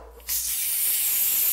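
Aerosol contact cleaner sprays in one steady, loud hissing burst into the button of an old trackball mouse, starting after a brief quiet moment and running to the end.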